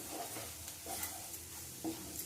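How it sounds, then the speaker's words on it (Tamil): Spices and salt being stirred into a cauliflower stuffing for gobi paratha make soft, close scraping and mixing sounds, faint and irregular, with no talk. "இப்போ இது எல்லாத்தையுமே நல்லா மிக்ஸ் பண்ணிடலாம்."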